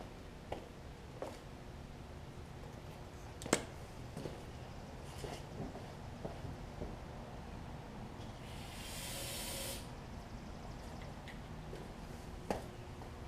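A can of carburetor cleaner sprays a roughly one-second hissing burst into the carburetor of a small engine on a Murray riding mower, standing out against a quiet shop background.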